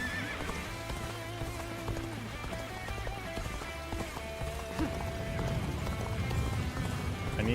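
A galloping horse in a video game, with rapid clip-clop hoofbeats and a neigh running through, set against in-game music and ambience at moderate loudness.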